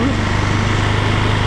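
KTM 690 Enduro R single-cylinder motorcycle engine held steady at about 3000 RPM in off-road mode, a loud, close, even drone with a constant low throb and no change in pitch.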